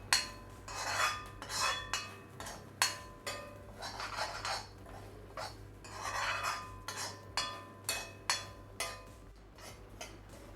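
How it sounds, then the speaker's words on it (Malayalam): Grated coconut being stirred and dry-roasted in a pan over a medium flame until brown, for a Kerala-style chicken curry; repeated scraping and clinking of a spoon against the pan in a steady rhythm, close and moderately quiet, with no talking. "അടിക്ക് പിടിക്കാതെ കരിയാതെ ഇളക്കിയെടുത്ത് വറുത്തെടുക്കണം."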